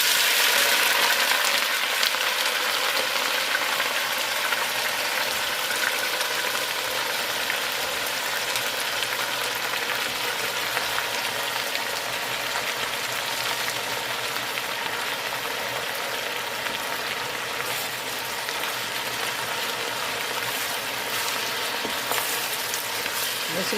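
Cabbage frying down in bacon grease in a deep pot, a steady, dense sizzle and crackle holding close and even throughout with no talk over it.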